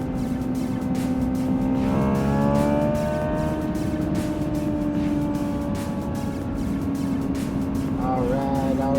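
A Hyundai Ioniq 5 N drives on the Road America race track, its electric drivetrain whining in steady rising and falling tones through a chicane, with a driver talking over the sound inside the car.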